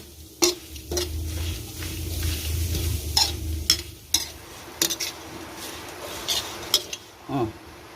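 Fish paste with sliced spring onions being dry-roasted in a pan, a Lao-Thai chopped fermented-fish jaew bong, with repeated sharp spatula scrapes and clinks against the pan over a low sizzle, close and fairly loud.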